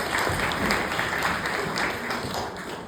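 An audience claps steadily in dense, sustained applause throughout, filling the space without pause.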